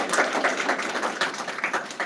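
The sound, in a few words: audience applause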